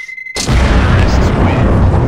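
An explosion goes off in the game Counter-Strike: Global Offensive, a sudden loud boom after a brief quiet tone, then a long rumbling roar that stays strong and dense to the end.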